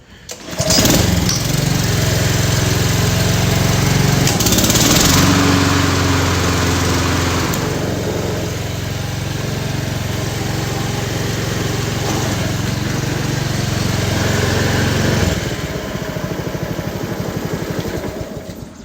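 A lawn mower engine runs steadily and loud for most of the stretch, with a strong low drone that eases slightly mid-way after a revving start, then cuts off near the end.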